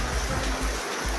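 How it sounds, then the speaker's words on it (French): Fast-moving water rushes in a steady broadband roar, loud and close, with low rumbling surges throughout and no voices. "Vous voyez comme l'eau coule."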